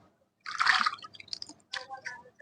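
Fish being rinsed clean in salted water, with splashing, dripping and squelching bursts in two separate bouts close at hand.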